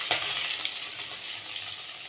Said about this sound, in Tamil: இப்போ பொடியாக கட் பண்ணி வச்சுருக்கிற சின்ன வெங்காயமும் வரமிளகாவும் சேர்த்துக்கலாங்க